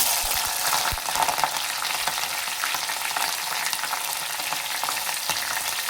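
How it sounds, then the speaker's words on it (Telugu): Green chillies and onions frying in a pan make a dense, continuous crackling sizzle, with a couple of sharp knocks near the start and faint stirring after, close and steady, no one speaking. "ఇప్పుడైతే పచ్చిమిర్చి వేసుకుందాం"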